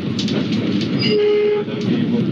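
The Mutiara Selatan passenger train rolls along the line from Surabaya with a loud rumble and clattering wheels, and a brief horn-like tone sounds midway.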